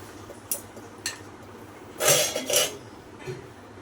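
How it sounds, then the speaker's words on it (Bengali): Plates and metal dishes clink and knock a few times while rice is served at a home meal, with sharp isolated taps followed by a brighter cluster of clatter, close by and moderately loud. "এই যে ভাত বেড়ে নিচ্ছি"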